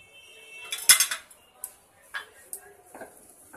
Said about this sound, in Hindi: और इसे चम्मच से चला देंगे